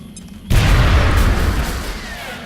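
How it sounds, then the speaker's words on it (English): A grenade detonates in the XCOM Long War strategy game with a sudden loud boom, then a long rumbling tail that fades slowly, and no voices over it. "Grenade out."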